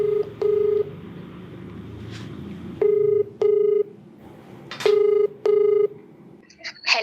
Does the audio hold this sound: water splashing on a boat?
no